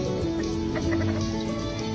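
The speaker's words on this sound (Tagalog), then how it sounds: "Ito yung manok ni tatay" A rooster belonging to the owner's father clucks in low, steady bursts, with other fowl murmuring close by throughout.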